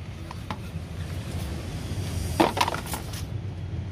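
Potting soil and coconut coir mixed together by hand give a soft, continuous gritty rustle close by, with a short burst of crunchier scraping near the middle and no talking.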